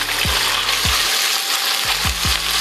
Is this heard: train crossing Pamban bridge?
no